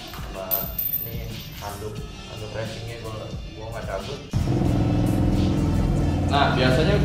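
A Suzuki Satria motorcycle fitted with an Arrow Trophy titanium exhaust idles with a rumbling exhaust, then revs up sharply and holds a loud, steady roar close by.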